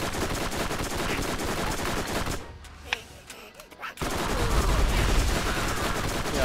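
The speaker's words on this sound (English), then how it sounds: "Keep shooting me, just keep shooting me." Rapid automatic gunfire from the Borderlands 1 video game rattles on loudly and steadily, drops away to near quiet for a second or so in the middle, then resumes dense and continuous.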